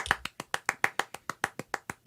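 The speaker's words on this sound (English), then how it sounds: "Round of applause for Dante, ladies and gentlemen" A small audience claps for a guest at an informal collectibles-talk show, about a dozen sharp, evenly spaced claps in a sparse steady rhythm, close and clear with no talking.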